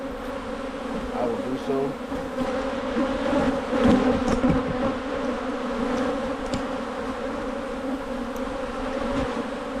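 Honeybees, drones among them, buzz loudly around an open hive in early spring as a dense, continuous drone close by, with a brief spoken remark partly under it.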